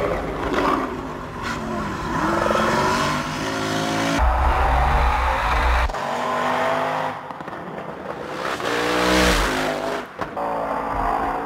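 Ken Block's rally car tearing along a mountain road, its engine loud and revving hard, rising and dropping through gear changes, with bursts of acceleration and tire noise, close and continuous.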